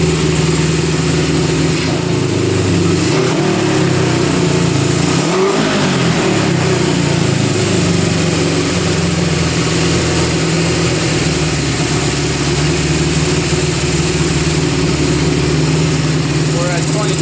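A Honda CB750 motorcycle engine, a one-owner machine, runs loud and close with a steady mid-pitched throb, rising briefly in a rev before settling back to an even idle, with a voice talking over it.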